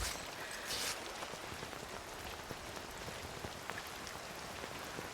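Steady rain falls in a video game while a climber scales a big rock, a dense constant patter of drops hissing evenly and closely, with no voices over it.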